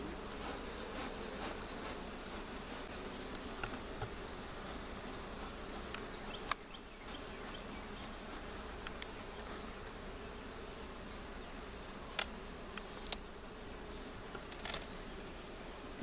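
Honey bees buzzing around hives as a steady, dense hum that continues throughout, with a few faint clicks and taps over it and no voices.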